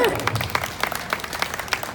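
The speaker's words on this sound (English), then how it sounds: "Little round of applause for her." Brief applause from a small class audience during a self-defense grabbing demonstration, light scattered claps over a couple of seconds with an instructor's voice over them.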